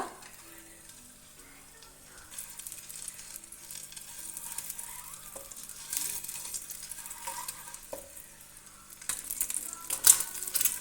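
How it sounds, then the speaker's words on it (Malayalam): Masala-coated eggs fry gently in hot oil over a low flame, giving a soft, quiet sizzle dotted with small pops and crackles, plus a few light clinks near the end. "ഓയിലൊന്ന് ചൂടായി വരുമ്പോഴേക്കും നമ്മൾ നേരത്തെ മസാല പെരട്ടി വെച്ചേക്കുന്ന മുട്ട ഇതിലേക്ക് ഇട്ടിട്ട് ഒന്ന് ഫ്രൈ ചെയ്തെടുക്കാം"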